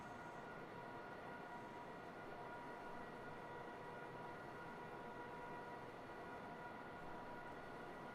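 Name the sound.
freight train passing on Riesa-Dresden line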